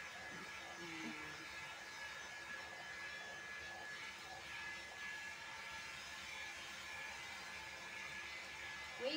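Steady hiss of a hair dryer blowing a freshly bathed dog's fur, a continuous faint airy whoosh throughout with a brief bump at the end.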